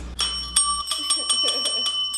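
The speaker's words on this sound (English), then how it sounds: "I'm gonna ring the bell." A hand bell is rung close by in a quick, steady series of bright metallic dings whose tones ring on between strikes, loud and without talking.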